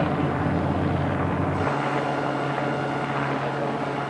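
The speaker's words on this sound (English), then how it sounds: "The gang of youths spot the helicopter." A police helicopter hovers overhead, a steady loud rotor drone with a sustained low hum that shifts pitch partway through.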